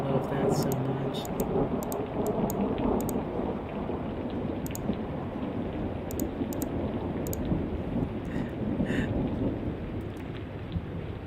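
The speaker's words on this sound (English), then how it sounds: "is a thunderstorm from the actual storm or just background noise?" Thunderstorm ambience with heavy steady rain and low rumbling thunder fills the background, constant and fairly loud, with a few faint clicks on top.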